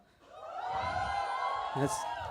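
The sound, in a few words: audience screaming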